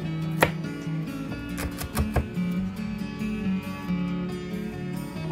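Red onion being chopped with a knife on a cutting board, a steady run of close, crisp thuds and slices, fairly loud and unaccompanied by speech.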